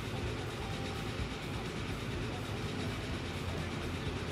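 A train running in the simulation game Transport Fever 2 gives a steady, continuous rumble with faint rhythmic rail clatter, even in level and with no voices throughout.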